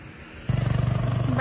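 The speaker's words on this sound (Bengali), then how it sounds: "বাইক আসছে।" A motorcycle comes along a monsoon hill road near a waterfall viewpoint, its engine abruptly loud and close with a rapid pulsing putter that builds as it nears, a voice briefly heard at the end.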